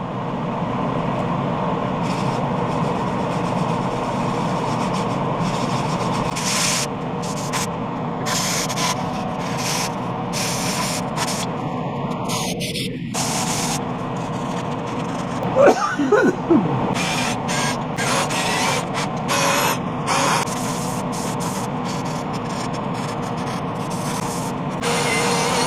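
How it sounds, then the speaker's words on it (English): Soft redwood being sanded, giving a steady, continuous rubbing hiss that runs unbroken for the whole stretch, close and fairly quiet, with no voices. "I hate sanding and you hate watching sanding."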